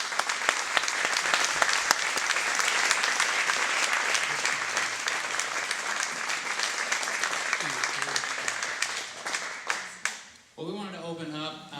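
Sustained, loud applause from a theater audience at a film premiere, dense clapping rolling steadily for several seconds before thinning out and giving way to a voice at the end.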